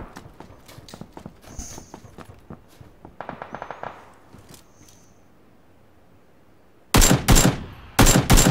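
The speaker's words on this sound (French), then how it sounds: "Qui c'est qui tire?" Gunfire in PUBG on Xbox One X: scattered distant single shots and a quick burst early on, then two loud, close bursts of rapid automatic fire near the end.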